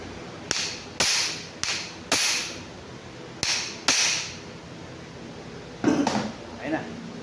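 An impact wrench works on the engine of a Honda Click V3 scooter, firing several sharp, loud rattling bursts about a second apart, then a brief pause and another burst, close up in a workshop.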